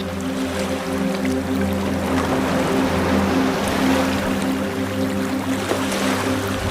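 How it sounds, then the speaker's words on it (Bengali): Sea surf at Cox's Bazar roars continuously in a broad, steady wash, with a low engine-like drone running beneath it. "সমুদ্রের গর্জন শুনতে এত ভালো লাগে"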